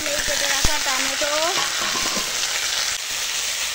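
Onion, potatoes and chopped tomato frying in a pan with ginger and garlic, giving a loud, steady sizzle with occasional stirring scrapes and clinks near the start.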